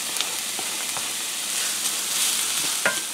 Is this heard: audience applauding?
no